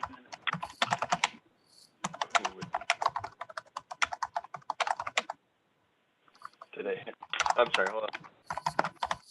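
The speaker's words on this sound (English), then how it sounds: "your typing is so loud" Rapid clicky keyboard typing in bursts, close and fairly loud, with a brief pause and a person speaking near the end.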